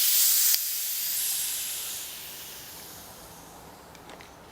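Gas hisses steadily out of an airsoft blowback gun as it is degassed. The loud, close rush starts strong, then slowly fades and thins over several seconds.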